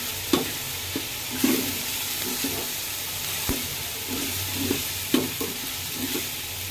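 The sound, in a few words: stirring garlic, ginger and nut paste frying in pan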